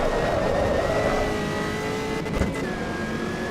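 Race car engine in Assetto Corsa EVO revving steadily and loudly, pitch climbing as RPMs rise rather than being held down, a continuous near drone with no talk.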